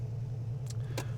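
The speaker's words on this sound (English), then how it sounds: "we just started the car" A 1985 Ford Mustang GT with 43,760 original miles idles just after a cold start, a steady low engine rumble heard from inside the car, with a couple of brief faint clicks.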